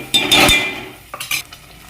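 A spoon stirs a ground masala paste into egg curry in a pan, giving a few close, brisk scraping strokes with light sizzling, a loud burst first and then shorter rasps.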